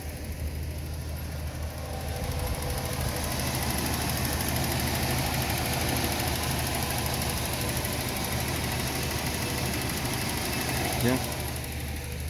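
A 1983 Datsun 280ZX 2+2 idles steadily through a modest 2-inch exhaust, a low, even rumble held close and constant throughout.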